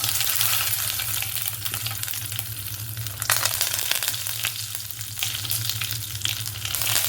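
Mustard seeds spluttering in hot oil for a tempering, a continuous dense crackle and sizzle that holds steady throughout.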